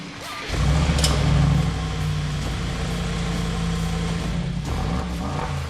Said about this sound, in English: This is how the car sounds in normal mode.